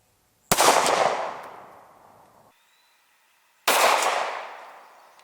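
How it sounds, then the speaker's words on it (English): Two loud, close 9mm gunshots from a Glock 43 pistol, each a sharp crack followed by about two seconds of decaying echo, separated by a brief quiet gap. "let's shoot the exact same bullet out of the Glock 43"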